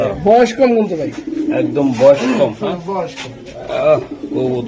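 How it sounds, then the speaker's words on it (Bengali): A racing pigeon coos up close in repeated throaty bursts, and someone speaks over and between the calls. "এই যে কবুতরটা দেখছেন অরিজিনাল রেসার"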